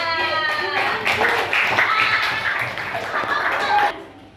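A classroom of students claps for group 6 after a peer-teaching activity, a short burst of mixed clapping with chatter and light laughter around it, while voices talk over it.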